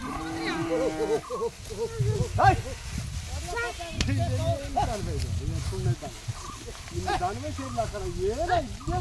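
Crossbred cattle kept by hill-dwelling herders near Sathyamangalam low out in drawn, wavering moos, heard among other animal calls on a busy farm with steady human chatter running over them.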